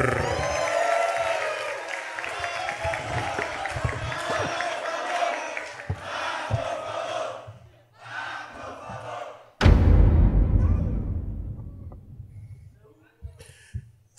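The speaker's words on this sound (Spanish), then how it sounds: "Y vamos a recibir con un fuerte aplauso al tío Robert." A crowd roars and cheers loudly, with a burst of applause and shouting swelling up and then fading away.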